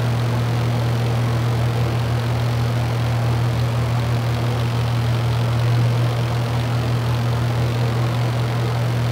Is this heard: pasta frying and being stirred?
no